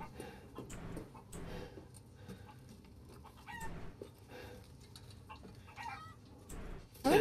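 Chickens in the video game Resident Evil Village cluck in scattered bursts across a farmyard, with a crow-like call or two, moderately close over a low ambient bed.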